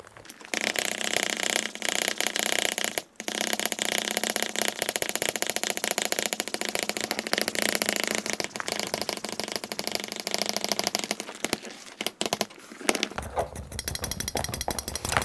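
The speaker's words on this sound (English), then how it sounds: "We'll pump that air out." Hand pump evacuating air from a vacuum press bag holding a skateboard deck, a loud, continuous rattling drone that briefly dips near the start and thins out toward the end.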